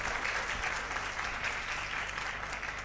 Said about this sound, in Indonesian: Aplaus dong buat Tianxi Bapak Ibu.